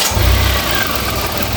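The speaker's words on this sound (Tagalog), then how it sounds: "papa-start natin yung makina" A car engine cranks and starts during an oil change, then settles into a steady, close, fairly loud idle with a low rumble and no talking over it.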